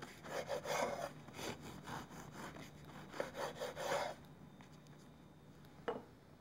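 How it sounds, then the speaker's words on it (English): A knife saws through bread in a run of rhythmic back-and-forth strokes, each crisp rasp close and fairly quiet, then pauses before one final stroke near the end. "I'm gonna just slice 6 pieces of bread"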